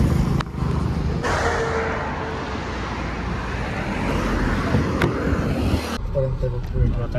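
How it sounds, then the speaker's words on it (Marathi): Road traffic near a toll plaza, a continuous low rumble of cars and heavier vehicles idling and moving close by, with people talking over it. "आता ट्रॅफिक असल्यामुळे आम्ही थांबलेलो सगळे."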